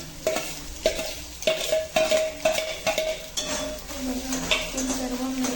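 Grated egg and green peas are stirred in a pan on the stove, with a spoon scraping and knocking against the pan in a quick uneven rhythm over a soft sizzle, close and fairly loud.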